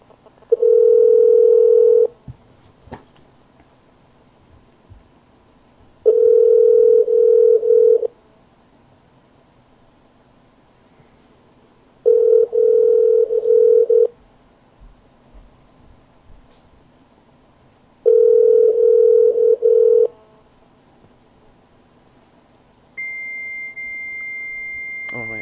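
Telephone line tone during a prank call, sounding as four evenly spaced steady bursts of about two seconds each with quiet gaps, followed by a different, higher steady tone at the end.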